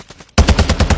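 Rapid automatic gunfire in the video game Fortnite erupts abruptly after a quiet moment, a loud, close burst of evenly spaced shots in quick succession.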